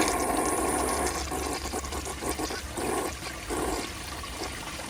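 A 1983 Gerber Mt Vernon toilet flushes a grocery bag, giving a loud rushing swirl of water that gurgles and sputters before settling into a steady refill trickle.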